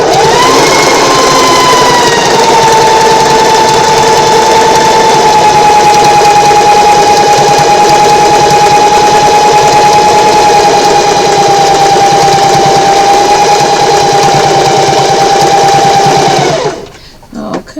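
A sewing machine back stitching several times over the pocket edge of a quillow: a loud, steady, close motor whir running unbroken for about sixteen seconds before cutting off.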